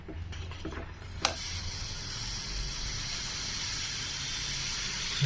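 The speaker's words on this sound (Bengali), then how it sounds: "এবার মাখন দিয়ে এটাকে একটু ভাজা ভাজা করব।" Mashed vegetables for pav bhaji fry in butter in a pan. After a few soft knocks, a steady, bright sizzle and hiss sets in and holds evenly to the end.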